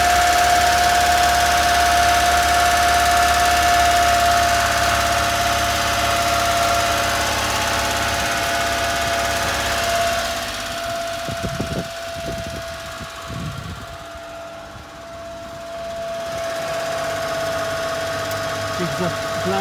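A 1992 Honda Acty HA4 4WD mini truck idles with a steady, droning engine hum and a constant tonal whine, loud and close at first, then dipping slightly as scattered clunks and knocks pass before the drone settles again.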